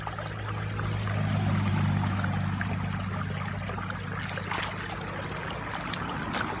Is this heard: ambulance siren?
no